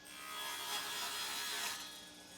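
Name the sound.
table saw cutting wood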